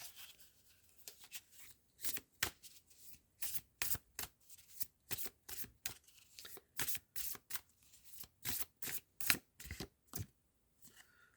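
A deck of rose oracle cards is shuffled by hand, a close, quiet run of about twenty crisp riffling bursts in an uneven rhythm, separated by short pauses, with no talking.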